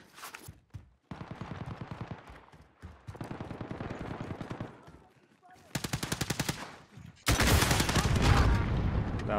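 Rapid automatic gunfire and pistol shots from the Warzone (Modern Warfare) video game, several loud bursts separated by short gaps, ending in a dense sustained volley, with no speech over it.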